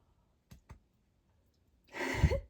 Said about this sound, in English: Yep, there goes the yawns.